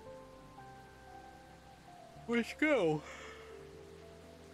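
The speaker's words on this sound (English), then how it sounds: "The rain in the background now is making me very drowsy." Soft, steady rain falls in the indie PC game Calico, a faint hiss that continues throughout. A voice speaks briefly partway through.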